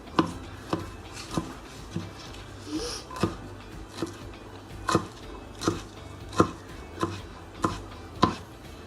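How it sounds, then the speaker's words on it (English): Fresh basil being chopped with a knife on a board, a steady series of about fourteen crisp, evenly spaced chops heard close up with no talking. "I got some really nice basil delivered today, so I'm going to just chop it"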